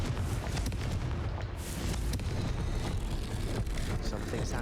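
A Confringo blasting spell explodes in the Hogwarts Legacy video game, a loud, dense rumbling burst that fills the scene and continues as a steady roar without a clear break.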